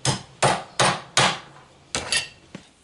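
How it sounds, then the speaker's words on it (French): A hammer taps a cotter key into a bicycle crank: six sharp metallic strikes, four evenly spaced and then a closer pair, followed by a lighter tap. The blows ring briefly, close and loud, with no voices. "Je mets un coup de marteau."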